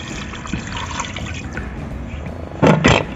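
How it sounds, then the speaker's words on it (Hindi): Half a litre of water is poured into a pressure cooker holding beef for white karahi, a steady close rush of liquid that ends in a louder splashing burst. "आधा लीटर पानी हम इसमें डाल रहे हैं।"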